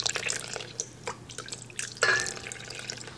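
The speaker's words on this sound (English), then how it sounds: "we're gonna add 1 cup of cold water to this" A cup of cold water is poured onto gelatin in a stand mixer bowl, with scattered drips and splashes before a brief louder pour, close and fairly quiet.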